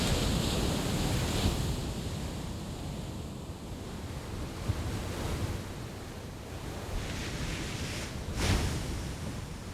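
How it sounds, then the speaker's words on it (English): A storm at sea brings continuous roaring wind and crashing waves, a dense, steady wash of noise with occasional louder surges, without any voices. "He's trying to head home, but a storm overtakes him."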